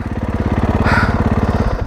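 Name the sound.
2024 Kawasaki KX450 motocross bike engine climbing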